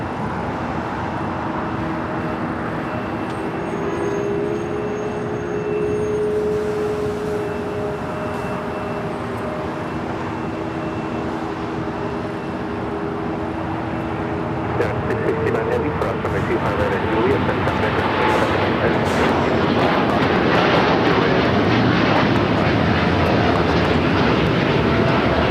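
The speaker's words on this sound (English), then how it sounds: "was United Airlines Flight 39 taking off to Tokyo Haneda on the 787-10 Dreamliner" A United Airlines Boeing 787-10 Dreamliner takes off from runway 25 right at LAX, bound for Tokyo Haneda, its engine roar swelling from a steady distant rumble into a louder broadband wash in the second half, with speech running over it throughout.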